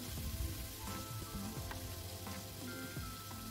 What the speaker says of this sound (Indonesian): Nah minyaknya udah cukup panas, sekarang kita goreng ikannya sampai matang.